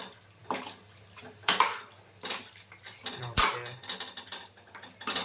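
A spoon stirs chicken kurma in a metal pot, giving sharp clinks and scrapes against the pot at irregular intervals, close and fairly loud, with faint background noise between strokes.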